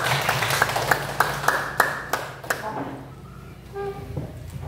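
A classroom of students claps for a few seconds, a loose burst of hand claps that fades out into quiet room noise with a faint voice at the end.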